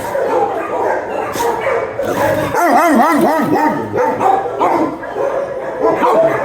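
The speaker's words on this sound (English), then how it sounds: "Big bark." A dog barks loudly several times in quick succession at close range, mixed with yips and whimpers amid a noisy room.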